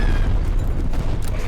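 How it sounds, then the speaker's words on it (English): Continuous rumbling explosions from a video game, a dense, loud, low booming roar that sustains without pause throughout. "Wow, everything really is exploding."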